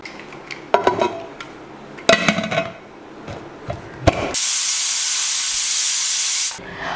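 After a few clattering knocks and rattles, a pressure cooker cooking green gram lets out a loud, steady hiss of steam for about two seconds, then cuts off abruptly.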